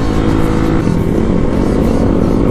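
A Kawasaki KLX 250 motorcycle engine drones loudly and steadily at high revs while riding, with a constant close roar and no pauses.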